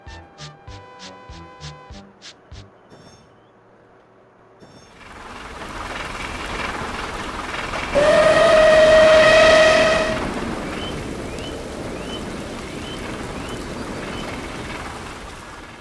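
A train rolls along the line with a rising rumble of wheels and carriages, and a loud sustained whistle blares for about two seconds midway. Rhythmic tones come before it, and a fading rattle follows.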